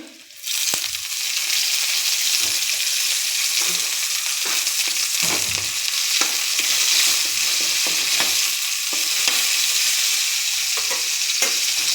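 Onions and curry leaves fry hard in a pan for a tomato curry, a loud continuous sizzle and crackle with scattered small pops and stirring scrapes throughout.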